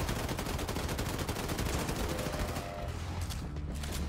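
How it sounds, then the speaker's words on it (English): Rapid, dense gunfire from the razor gun in Wolfenstein 2: The New Colossus rattles continuously at close range, a loud unbroken burst that eases slightly near the end. "It's a razor gun, man."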